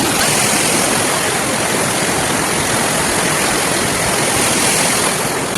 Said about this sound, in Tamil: தண்ணி வந்து பயங்கரமா ரொம்ப ஸ்பீடா வருது